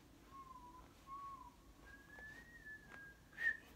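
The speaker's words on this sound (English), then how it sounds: "We got the whistle going." Faint, clear whistling of a short melody, a few sustained and gliding notes rising in pitch, heard on its own over quiet background.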